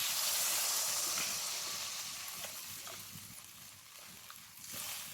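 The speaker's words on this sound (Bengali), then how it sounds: "এবার দিয়ে দেবো পরিমাণ মতো জল।" Water poured into a kadai of simmering potato, pointed gourd and paneer curry sets off a loud, broad steamy hiss and sizzle that gradually eases, heard close and alone without talk.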